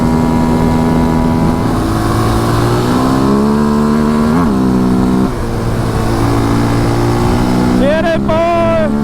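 A Can-Am DS450 ATV engine revs hard on holeshots and hits the rev limiter, a loud, close, sustained buzzing drone with pitch shifts, and a voice talks over it near the end.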